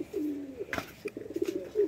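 Large pigeons in a village give a few soft, low cooing calls close by, with a faint rustle in between.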